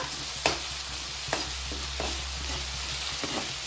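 Onion, garlic, green chilli and ginger frying for baingan bharta while being stirred continuously, an even sizzle punctuated by several sharp spoon scrapes and taps against the pan.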